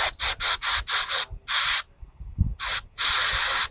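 Aerosol cleaner sprays in short bursts into Tecumseh Snow King carburetor parts. Several quick hisses come first, then longer blasts with pauses between them, loud and close, with a small clatter in one gap.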